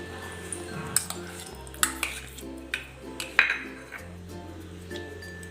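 A utensil stirs jaggery into raw mango panha, clinking against a metal pot in several distinct, uneven taps and scrapes, close by, over a low steady hum.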